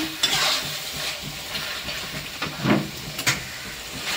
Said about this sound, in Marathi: छान असं पनीर मस्त आहे मसाल्यामध्ये परतून घ्यायचं एकदा